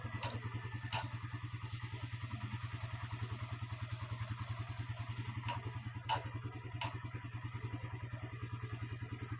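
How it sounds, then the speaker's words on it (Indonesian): An engine turns over on the starter and settles into a steady, fast idle after its battery was repaired. The close, even throbbing runs throughout, with a few sharp metallic clicks on top. "Nah sekarang kita tes starter untuk starter yang bagian aki tadi kita perbaiki ya."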